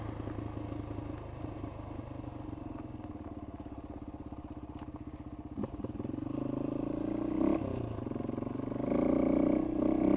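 A Yamaha XT225 motorcycle engine drones steadily while riding a rough dirt road in Alabama or Tennessee, with clatter and bumps along the way and the revs rising toward the end.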